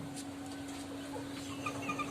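A chicken being readied before a fight clucks softly in short scattered notes, with a steady low electrical hum underneath and no talk.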